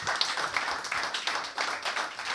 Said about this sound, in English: Let's put your hands together for you for coming out.